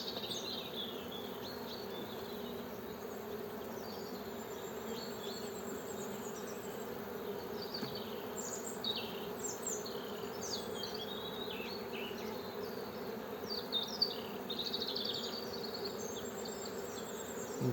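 A honeybee colony at an opened hive in early spring hums with a dense, continuous buzz, with closer individual bees droning past now and then. The sound is moderately loud and there is no talking.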